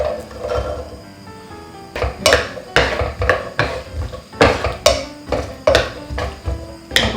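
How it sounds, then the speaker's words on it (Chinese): Garlic stir-fries in sesame oil in a pan with repeated clanking of a utensil against the pan in an uneven rhythm, over a low background sizzle, close and moderately loud. "把这个蒜头稍微炒香好"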